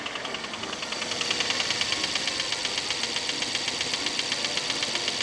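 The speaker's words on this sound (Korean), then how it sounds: "소리를 들어보니까 크랑크 축 손상으로 인한 소리로 판단이 돼서" A Rolls-Royce Ghost engine with a damaged crankshaft runs with a steady, rapid metallic knocking ticking over the idle, close up and constant, with no voices.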